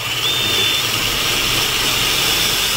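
A power drill bores steadily into a melamine panel, giving a loud, constant whine for the whole stretch with no pauses or talk.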